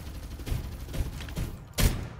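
MG7 machine gun fire in the shooter game Farlight 84: a few muffled, thumping shots spaced about half a second apart, then one louder, sharper blast near the end, heard over a busy game background.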